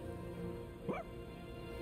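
A dog in the video game Persona 3 Reload gives a single short yip-like bark over a constant background of game music.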